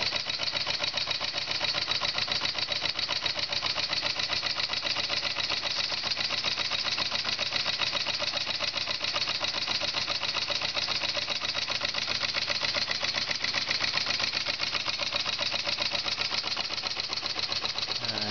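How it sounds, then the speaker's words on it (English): A large model steam engine with a 7/8-inch bore and 1.5-inch stroke runs steadily at a fast, even chuffing rhythm, close and constant for the whole stretch with no pauses. "Engine's running smoothly."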